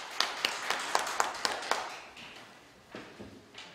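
A small audience at a church ceremony for signing an agreement, held at a hall in Seoul, claps in a loose, sparse rhythm. The distinct claps fade and thin out toward the end, with no talking.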